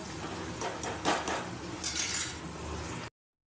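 Vermicelli and peas being stirred in a pot, with close metallic scrapes and clinks of a utensil against the pot over a steady bubbling hiss, ending in a brief silence.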